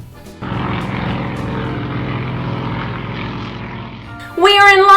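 Airplane flight sound effect: a steady propeller-aircraft engine drone holds for about four seconds at moderate level, then gives way to a brighter, louder tonal burst at the end.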